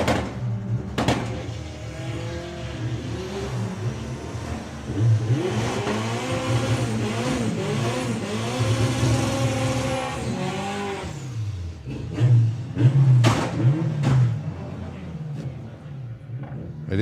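Audi TT race car at a VW drag racing national final accelerating hard down the strip, a loud rising engine note with gear changes, steady through the run and fading toward the end, with brief announcer-style voices.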